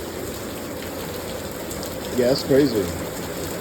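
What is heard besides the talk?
heavy rain falling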